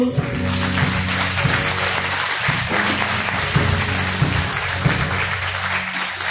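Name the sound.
church congregation applause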